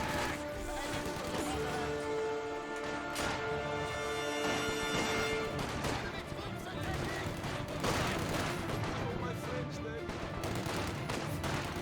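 Dense gunfire from a Company of Heroes 2 battle, with rifle shots from Grenadiers and MG42 machine-gun bursts cracking repeatedly over a loud, continuous clatter of combat.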